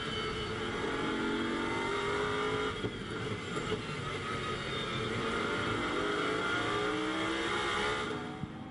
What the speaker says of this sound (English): Great noise these cars make, of course.